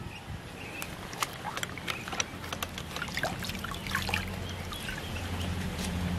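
Battered, flour-coated food is dropped into a bowl of water in a kitchen, giving soft splashes and trickles with scattered sharp clicks and knocks over a low background hum.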